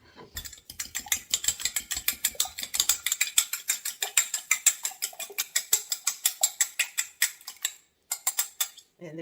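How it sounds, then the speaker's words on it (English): Two eggs whisked in a separate container for a fall dessert, a fast, steady run of light clicking strokes that carries on for several seconds with a brief pause near the end. "I have 2 eggs, and I'm actually going to give them a little bit of a whisk."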